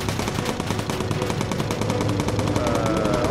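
Rapid, continuous bursts of automatic gunfire from bomber gunners in the video game Bomber Crew rattle without pause, dense and loud, with a faint rising whine toward the end.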